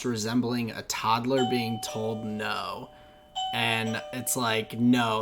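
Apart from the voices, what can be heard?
doorbell ringing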